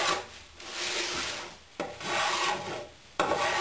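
Hand plane trimming the inside edges of a handmade wooden box: three long rasping strokes of blade on wood, each starting with a sharp onset. Close and steady, with no talking.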